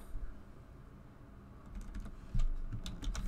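Computer keyboard typing starts faint and picks up into a burst of close, crisp key clicks in an uneven rhythm.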